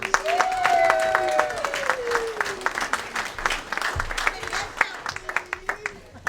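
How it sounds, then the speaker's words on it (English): A crowd applauds steadily, the clapping thinning into separate claps toward the end, while a voice speaks over the start. "Let's have a round of applause for Dalton Simons."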